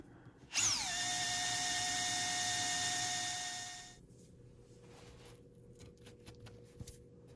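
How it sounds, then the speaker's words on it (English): A power drill whines loudly at high speed for about three seconds while drilling into a broken bolt, then stops, leaving quiet background noise and a faint click. "And then using the appropriate size drill bit,"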